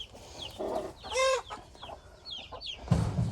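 Chickens give a few soft clucks at close range, broken by one sharp squawk, with a brief rustle of movement toward the end.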